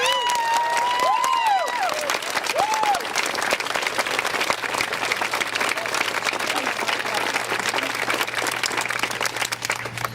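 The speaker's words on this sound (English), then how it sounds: "Mark Larson, deserve a huge round of applause from all of you." Sustained audience applause at a Vermont universal health care bill event, loud and dense throughout, with a few whistles and cheers rising at the start.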